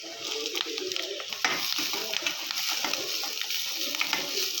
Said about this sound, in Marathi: कांदा पण छान मऊ होईपर्यंत परतायचा आहे.